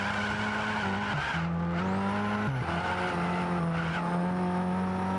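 Race car engine from a racing video game at the 24 Hours of Daytona, droning steadily with shifting pitch while tires scrub and squeal for traction, loud and continuous with no talk.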